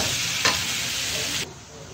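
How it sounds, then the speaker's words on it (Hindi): Pieces of meat fry in hot oil with a steady, dense sizzle, close and loud, with a brief stir midway before the sizzle drops suddenly near the end. "अब ये दूसरा इसी तरह फ्राई कर लेते हैं।"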